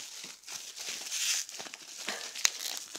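Plastic packaging around a bottle of Country Suds lotion being pulled and torn open by hand, a near, busy crinkling with a sharp rip just before the end.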